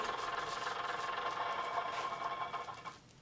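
Bachmann Class 121 model railcar with DCC sound decoder running its diesel engine shutdown sequence: a quiet, steady rattling engine drone from a small speaker that winds down and cuts off near the end.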